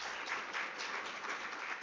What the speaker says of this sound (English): Let's give her another big applause.